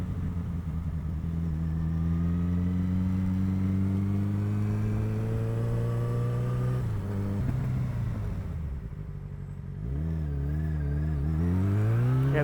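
Motorcycle ride on country roads, the engine droning steadily close-up with pitch rising and falling through gear changes, a brief dip before climbing again under strong wind rush.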